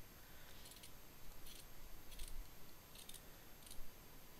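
Scissors snipping through fabric for an ant mask, a series of about five quiet, crisp cuts at a steady pace, close by with no talking.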